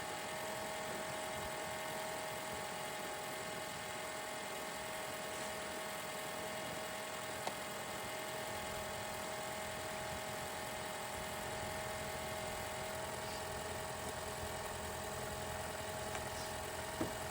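A 2012-2017 Toyota Camry 2.5 engine idling after water pump and thermostat replacement, a faint, steady hum with a constant whine, unchanging over many seconds and heard alone.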